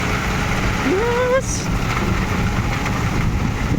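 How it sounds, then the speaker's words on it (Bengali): Heavy rain pours down with gusting wind, a dense continuous hiss that holds steady throughout, with a brief rising whistle-like tone cutting through early on. "ভীষণ বৃষ্টি হচ্ছে ভীষণ বৃষ্টি যেমন বৃষ্টি হচ্ছে তেমন হাওয়া হচ্ছে"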